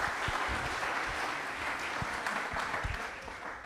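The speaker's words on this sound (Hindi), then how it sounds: "एक बार तालियां भी जोरदार हो जाए सर के लिए।" An audience claps loudly for a guest at a Republic Day quiz programme, a dense, steady round of applause with sharp individual claps standing out, holding strong across the whole stretch before easing slightly at the end.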